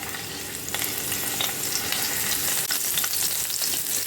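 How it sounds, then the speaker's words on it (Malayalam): Green chillies frying in hot oil, a loud, close, dense sizzle with a few scraping stirs running through it. "പച്ചമുളക് ഇട്ട് കൊടുക്കുന്നു ഇളക്കി കൊടുക്കാം."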